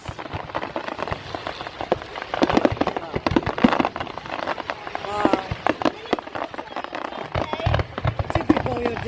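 A Bonfire Night fireworks display at Blackheath in 2019 crackles and pops steadily with sharp bursts, heard among a crowd whose voices chatter throughout.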